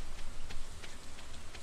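Rain falls steadily in the Stardew Valley farming game, a soft continuous patter with faint scattered drop ticks, quiet and even, no voices.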